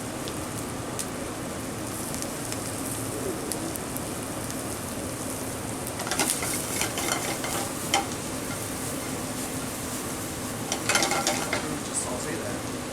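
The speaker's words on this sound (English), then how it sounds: "So I'll saute all this off first." Shallots sautéing in a pan, a steady sizzle and crackle with bursts of stirring around the middle and near the end.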